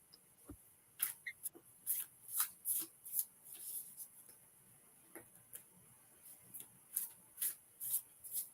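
A deck of cards is shuffled at close range in a run of quick, crisp riffling bursts with brief pauses between them. No one speaks.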